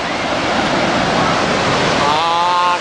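A river's water rushes in a steady, loud broadband wash that fills the whole span, with a faint voice-like tone surfacing near the end.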